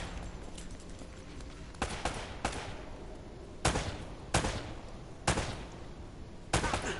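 Sporadic gunshots in the video game Uncharted: Drake's Fortune, five or six sharp reports spaced a second or so apart, moderately loud over a steady low background hum, with no talking.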